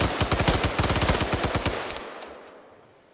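Rapid automatic gunfire during squad training in a military video game, a dense burst of closely spaced shots lasting over a second, then a trailing echo with a couple of faint distant shots as it fades.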